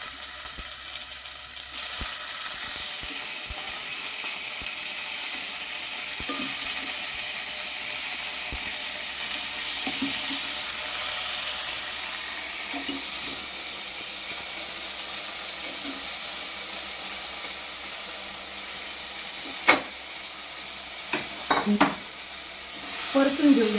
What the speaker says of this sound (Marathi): परतून घेऊया आपण.